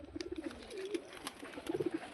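Frightened pet pigeons at home give soft, low cooing in two short rolling bursts, close by with a faint background hum.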